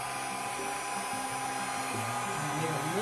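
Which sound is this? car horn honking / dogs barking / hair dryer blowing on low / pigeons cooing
hair dryer blowing on low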